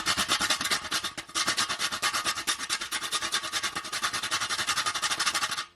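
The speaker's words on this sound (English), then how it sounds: "I'm gonna also grate my nutmeg because I'm using a whole nutmeg" A whole nutmeg rasped against a grater in fast, even back-and-forth strokes, close and scratchy, with one brief pause, then steady rubbing until it stops.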